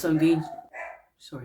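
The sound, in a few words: dog barking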